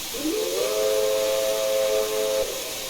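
LNER A3 4-6-2 Flying Scotsman steam locomotive whistle in Train Simulator Classic: a single clear, sustained two-second hoot over a constant background hiss, sounded alone without any talk.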